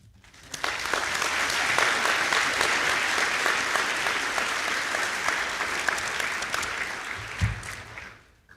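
An audience at a high school Veterans Day ceremony claps for an honored colonel stepping to the podium, with sustained, dense applause filling a large room at even strength before tapering off.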